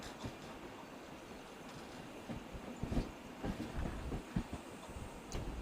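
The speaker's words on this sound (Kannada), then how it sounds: "ನಮ್ಮ ಟ್ರೈನ್ ಈಗ ಮೈಸೂರು ಜಂಕ್ಷನ್ ರೈಲ್ವೆ ಸ್ಟೇಷನ್ಗೆ ಎಂಟ್ರಿ ಆಗ್ತಿದೆ" A train rolls into Mysore Junction railway station, its wheels and cars giving a low, continuous rumble with soft rhythmic clatter, fairly faint and without voices.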